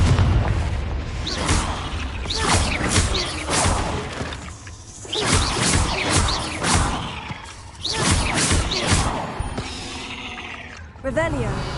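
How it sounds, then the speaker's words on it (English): Repeated Confringo blasting spells in Hogwarts Legacy on PS4 burst with booms, whooshes and crashing debris in a busy, loud run of impacts, with brief lulls between volleys. "Confringo"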